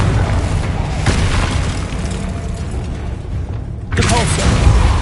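Confringo spell blast from Hogwarts Legacy, a loud booming burst over continuous game noise, with a second heavy impact surging in near the end while the player talks over the action.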